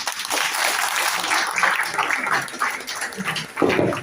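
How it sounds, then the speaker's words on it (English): An audience claps at an academic workshop, a dense spread of handclaps rising and falling over a few seconds, moderately near with no clear talk. "A big applause to them once again."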